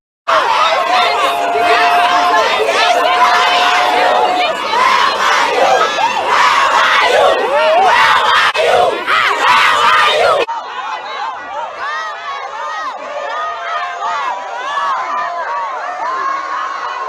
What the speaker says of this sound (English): was harshly booed off by the crowd, with people shouting loudly and in unison